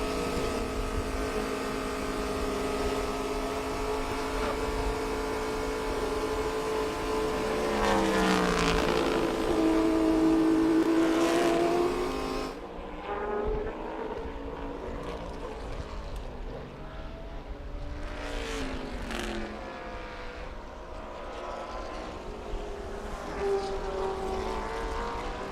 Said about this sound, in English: Giving you a little engine noise to get your Sunday morning going here